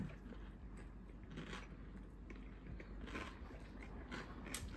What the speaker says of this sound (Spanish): Se oye el crujido, crunch.